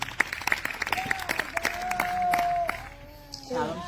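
A church congregation applauding and cheering in acclaim of the Lord after a night of prayer, sharp scattered claps under a sustained sung or called voice, with a crowd roar swelling toward the end.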